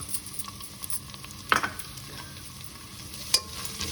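Onion, cumin, mustard seeds, green chilli and ginger-garlic paste fry in a pan for a capsicum egg curry, a steady soft sizzle with a couple of sharp stirring clicks, close and alone.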